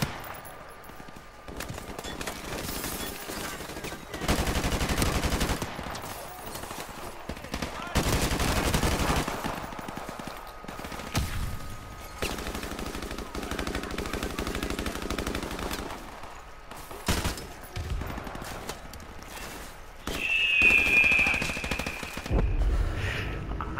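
Bursts of automatic gunfire and single shots in the first-person shooter Call of Duty: Modern Warfare Remastered, loud and intermittent across the stretch, mixed with game noise and someone talking.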